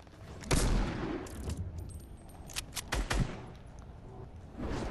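Several gunshots go off in the Fortnite video game as a few loud, sharp bursts and scattered single cracks over a few seconds, without talk.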